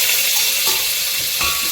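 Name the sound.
garlic sizzling in cooking oil with mala paste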